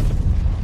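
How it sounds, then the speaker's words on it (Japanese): A deep rumbling boom from an explosion in the direction of Kasumigaseki in an anime action scene, loud and sustained as a low-frequency roar filling the moment, with no voices over it. "爆発。"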